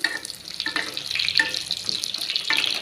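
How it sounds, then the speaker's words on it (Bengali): Semolina sweets frying in hot oil, a dense continuous bubbling sizzle with occasional crackling pops, steady and close. "মিষ্টিগুলো ভাজা কত সুন্দর হয়ে ভাজা হয়ে গেছে দেখো লাল লাল করে"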